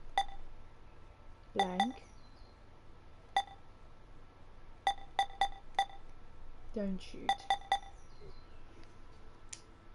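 Keypad button beeps in the video game Zero Time Dilemma: sharp electronic tones in quick clusters of two to four, spread across the stretch, with a person talking briefly between them.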